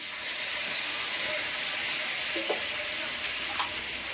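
Paste of ground peanut, poppy seed and white sesame hits a hot pan for a ridge gourd curry, giving a steady broadband sizzle and hiss with a couple of faint clinks of stirring, no talk.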